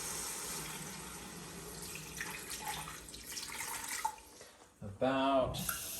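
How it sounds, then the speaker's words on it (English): Water pours into a pressure cooker holding browned corned beef brisket, a continuous close splashing stream, followed by a brief spoken comment near the end. "Gonna add a little bit of water."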